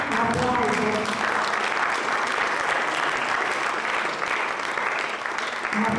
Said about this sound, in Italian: Un applauso a questi meravigliosi abiti che ogni volta ci deliziano la vista e ci arricchiscono.